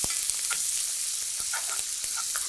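Porterhouse steak sits on herbs in a hot pan while butter is spooned over it, a steady close sizzle broken by quick splattering pops and light metallic ticks from the spoon.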